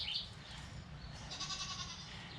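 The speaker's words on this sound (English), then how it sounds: "now we got to check on little goats here" On a farm, goats give a few thin, high bleats against a steady outdoor background hum, fairly faint and brief.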